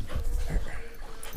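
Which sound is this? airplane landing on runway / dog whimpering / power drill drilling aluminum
dog whimpering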